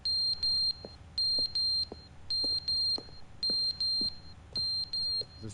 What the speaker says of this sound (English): What's the beeping noise?